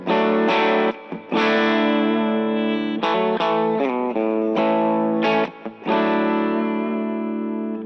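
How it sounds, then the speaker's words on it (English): An electric guitar plays through an amp set mostly clean on the edge of breakup with a touch of reverb, strummed chords ringing out in a steady phrase with brief pauses between them. "Amp's kind of on the edge, mostly clean, tiny little bit of reverb."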